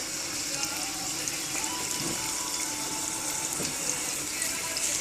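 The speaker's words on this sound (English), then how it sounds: "I've started washing the dal because dal's got a lot of like grainy bits." Dal lentils are washed under a running kitchen tap, a steady loud gush of water splashing into the sink that continues without break throughout.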